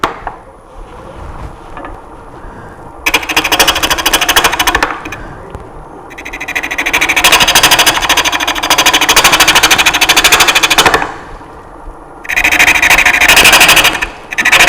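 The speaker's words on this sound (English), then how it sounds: "And for that, I'm going to use the bowl gouge." Woodturning on a lathe, a bowl gouge cutting a piece held in a chuck, gives loud bursts of rough, gritty cutting that stop and restart several times over steady motor hum.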